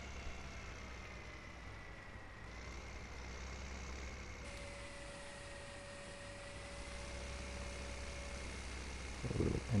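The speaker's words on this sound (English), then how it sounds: "See, the wheel loader is just there." A wheel loader's engine in Farming Simulator 15 hums as a steady low drone, with a thin constant tone and slight shifts in pitch, before a brief clatter right at the end. No one speaks.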